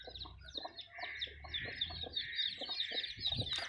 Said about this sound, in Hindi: चूं चूं करन डे सारे चूचे जी